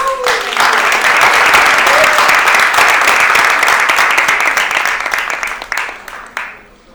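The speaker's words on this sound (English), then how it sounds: "let's welcome our panelists with a very big round of applause" A large audience welcoming panelists claps loudly and steadily for several seconds before the applause thins out and fades away.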